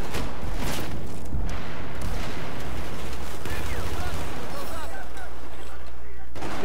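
Gunfire in a team first-person shooter played on hard mode, with rapid shots and blasts going off near and far over continuous game ambience, while players talk over voice chat.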